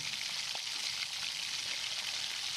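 A bowlful of onions sizzles and fries in hot oil in a wok, a continuous dense crackle heard close and steady without any talk.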